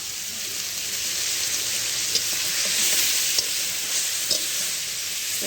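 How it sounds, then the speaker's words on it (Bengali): Ridge gourd sizzles with fish in a frying pan, with a steady, close hiss and a few faint clicks as it is stirred. No one talks. "ঝিঙেটা নাড়তে থাকতে হবে, নাড়তে নাড়তে জল বেরোবে।"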